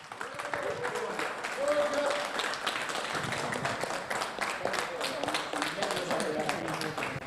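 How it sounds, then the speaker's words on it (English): Applause for the 2020 championship winner of a DTM sim racing series round at the Red Bull Ring GP, a sustained patter of clapping heard faintly under an announcer talking throughout. "a huge round of applause for your 2020 championship winner with 140 race points, Jack Ashton."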